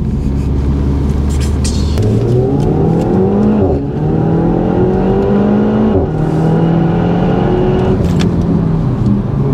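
Renault Megane RS Trophy engine and exhaust in RS Drive mode, a loud, steady engine drone close by with rising gear-by-gear pitch sweeps and brief dips between shifts, running alone without talk.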